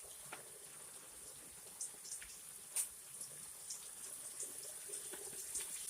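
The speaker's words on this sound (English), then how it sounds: "So I'm gonna add a little water in here. Gonna pour it around the side." Water is poured around the side of a pan of squash, a quiet trickle and gentle splashing with a few soft clinks, steady and faint with no talking.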